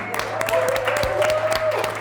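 Audience applause at a Bay Area tech event, with scattered claps over a steady hum and a faint tone, the clapping moderate and somewhat thin, the claps irregular.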